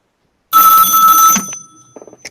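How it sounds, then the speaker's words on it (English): A telephone bell rings loudly and close, one sustained burst of bright metallic ringing that cuts off abruptly, followed by faint handling clicks. "Oh, that's the phone."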